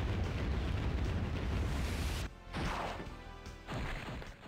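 Big crashing explosions in the role-playing video game Grandia, a dense roaring blast that cuts off abruptly, followed by two shorter bursts with ringing tails.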